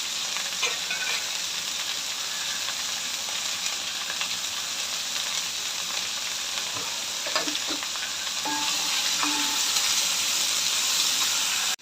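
Onions sauté in a pan with garlic and ginger, a steady close sizzle and hiss with occasional scrapes and clinks of stirring.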